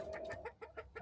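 Three hens and a rooster cluck close by in a village coop, a quick run of short, rhythmic clucks over about a second, fairly quiet.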